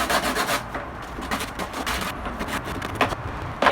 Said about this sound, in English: We're going to give it a little sanding just to ease off some of the ends.